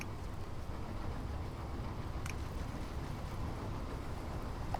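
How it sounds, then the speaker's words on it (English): A train running on its track in the factory-building game Automation Empire, heard as a steady continuous rumble with a faint rhythmic rolling quality, holding even and unbroken throughout with no talking. "That train's been going around pretty much full for a while now"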